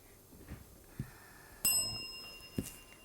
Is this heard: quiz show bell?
yes